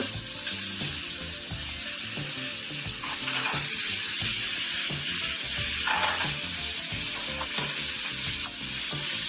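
Small cut pieces of fish sear in a hot pan, giving a steady, loud sizzle and crackle that rises slightly midway, with occasional stirring and no talk.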